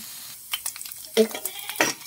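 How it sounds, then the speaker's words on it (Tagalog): Ingredients, including pork fat, fry in a cooking pot for mongo paksiw, with soft sizzling and a few brief stirring scrapes and clinks, close and fairly quiet. "dito lang natin ipapry yung mga sangkap"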